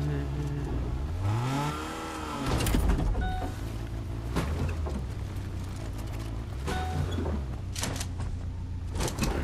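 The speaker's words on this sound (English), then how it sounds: "trying to drive the car down there" A car driving in the video game Fortnite, with engine hum, rising revs and bumps and clatter mixed with other game effects, fairly loud and continuous throughout.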